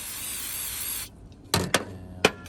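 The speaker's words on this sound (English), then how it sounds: "Just spray that off with brake clean" Brake cleaner sprayed from an aerosol can onto the oil pump of a Stihl 011av chainsaw: a long steady hiss, then silence, then two sharp short spray bursts and a third, close and loud.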